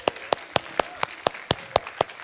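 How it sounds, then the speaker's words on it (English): Hand clapping at a variety show: eight or nine sharp, evenly spaced claps ring out one by one, like a single person or a small group rather than full crowd applause, with nothing else in the background. "everybody give him a round of applause."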